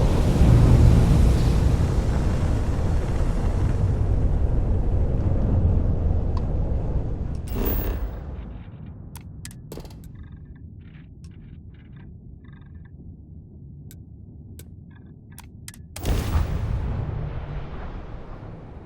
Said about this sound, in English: Switching over to standard engines.